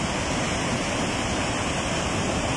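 Floodwater surging through low-lying areas and overflowing streams after heavy rain in Kalabagh, a dense, steady broadband roar heard up close and unbroken throughout.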